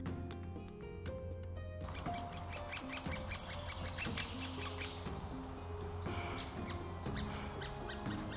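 Birds chirp and call in a forest, a mix of high tweets and repeated short notes over a musical background, fairly faint and close.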